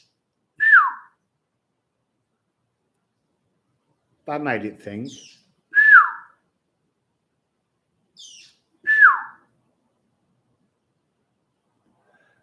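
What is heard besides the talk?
loud bird calls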